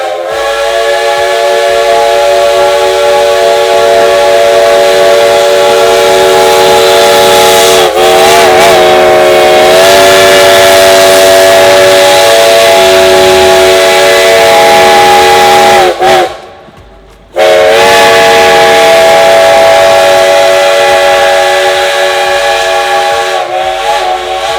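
A steam whistle blows long and loud, sustained for many seconds with a brief pause, over hissing steam as a locomotive gets underway.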